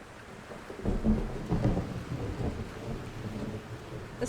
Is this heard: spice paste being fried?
no